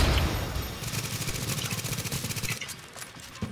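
Automatic turret in The Division firing steady rapid bursts of gunfire, loud and close, in a rhythmic stream that stops abruptly near the end.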